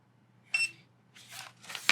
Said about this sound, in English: It beeps, and there it is.